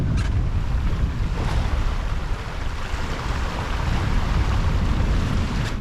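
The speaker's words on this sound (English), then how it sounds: "The wind has picked up slightly, up to 15 knots now" Wind and waves roar around a sailboat at sea on passage toward Iceland in about 15 knots of breeze, a loud, dense, continuous rush of water and gusting wind hitting the microphone, with no voices.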